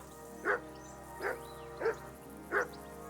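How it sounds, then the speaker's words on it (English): Four separate barks from a dog in the video game Kingdom Come: Deliverance II, evenly spaced and fairly close, sound over a quiet background with no talk. "I assume you can hear that damn dog of yours barking."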